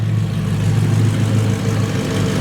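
A straight-piped Audi R8 idling after a cold start, a loud, steady, deep engine drone with no revving, continuous and close throughout.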